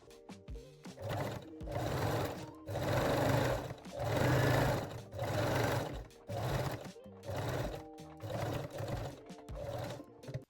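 A sewing machine stitches a seam on a cup-based bralette in a series of loud, close bursts of whirring, each run lasting a second or so, separated by short pauses as the fabric is turned.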